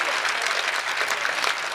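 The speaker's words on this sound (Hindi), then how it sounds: "एक बार जोरदार ताली पीट दो" Loud, dense applause from the audience at a Haryanvi comedy poetry gathering, steady and unbroken with no voices on top.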